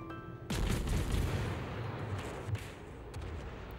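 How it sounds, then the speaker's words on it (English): Gunfire from a Leander tier 6 British light cruiser in World of Warships, a sudden loud naval gun blast followed by sustained rumbling booms and further muffled shots in a battle scene. "Now you can shoot."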